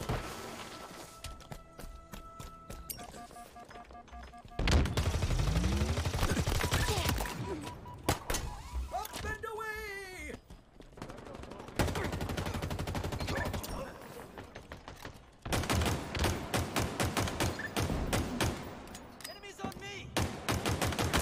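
Sidearm shots ring out in Halo Infinite in rapid, repeated bursts among other in-game firing and effects, with voices talking over the action.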